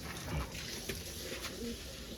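Faint pigeon cooing rises softly out of a steady background hiss.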